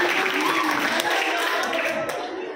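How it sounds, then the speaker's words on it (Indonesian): Applause from young santri at a pesantren motivation session in Bogor: steady dense clapping throughout, fairly close, with a faint voice mixed in and fading slightly at the end. "Tepuk tangan."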